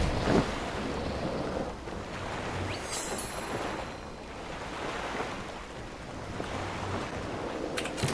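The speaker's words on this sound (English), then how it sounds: "Sail away on our new ship." Ship sailing on open sea in the video game Ylands, with steady wind and rolling waves washing around the hull, plus a brief brighter splash, continuous and moderately close with no talking.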